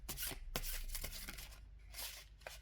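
Tarot cards being shuffled by hand, several quick riffling bursts close to the microphone, loud and crisp with short pauses between, and no talking.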